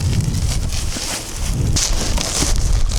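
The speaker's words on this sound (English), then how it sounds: "That is quite the wind." Strong wind during a winter blizzard at a campsite roars across the microphone in a continuous loud rush with gusty surges and buffeting, close and constant, no talking.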